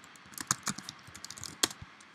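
Someone types on a computer keyboard, tapping out a short burst of quick, irregular key clicks at close range with no voices.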